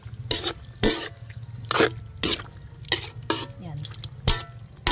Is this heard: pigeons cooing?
no